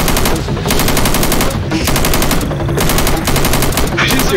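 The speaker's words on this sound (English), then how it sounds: "I'm shooting." Rapid bursts of automatic gunfire in the Left 4 Dead 2 video game, loud and dense, coming in several long volleys separated by short pauses.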